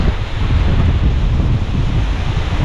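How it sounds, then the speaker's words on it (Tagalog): Strong wind blows outdoors, roaring steadily and loudly into the microphone with heavy low buffeting and no pauses. "grabe, ang lakas po ng hangin"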